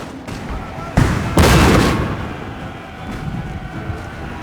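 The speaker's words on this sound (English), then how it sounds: "Artillery! Yes, sir! Barrage." An artillery barrage in the Napoleon: Total War video game sounds as two heavy booming blasts close together, followed by rolling echoes and a softer distant thump amid battlefield ambience.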